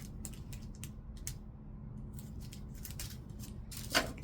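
Scissors snip ornament pieces apart close up, a series of crisp, quiet clicking cuts at irregular intervals over a low background hum, with a slightly louder snap near the end.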